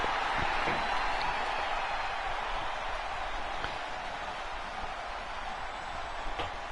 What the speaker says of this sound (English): The crowd goes wild for the artist and the king of strong style.